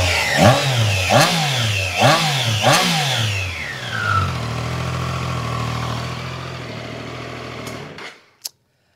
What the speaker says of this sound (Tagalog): So yan po ang tunog ng inline 3 engine.